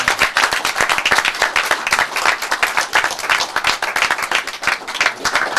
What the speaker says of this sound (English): let's give a little applause to that.